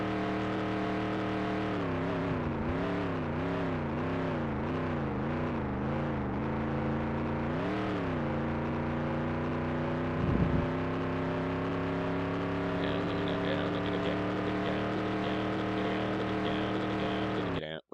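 Race cars roar through the last lap of the Nascar 98 video game at Sears Point, a steady loud engine drone with rising and falling revs and pitch sweeps as cars accelerate, shift and pass, continuous throughout.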